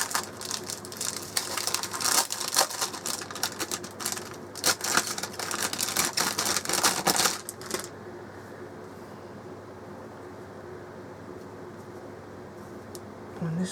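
Score tape, a double-sided craft tape, being pulled and applied makes crackly, ticking, ratchet-like rustling for about eight seconds, then drops to near quiet.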